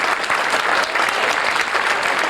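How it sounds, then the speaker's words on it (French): Crowd at the Auray–Vannes 1996 road race applauding a finishing runner, a dense, loud, continuous wash of clapping with faint voices mixed in. "je vous demande d'applaudir bien fort"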